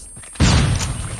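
A flashbang grenade goes off in the mobile shooter Call of Duty Mobile during a world championship match: a single sudden, loud burst that trails into a fading hiss.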